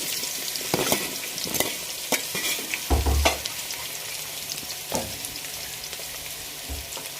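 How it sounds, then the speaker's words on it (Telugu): Onions fry in hot oil with green chillies, cloves and cinnamon for pulao, a close steady sizzle broken by repeated spatula knocks and stirring scrapes against the pan. "ఆయిల్ కాగిపోయింది ఆయిల్ ఉల్లిపాయలు వేసుకున్నాం"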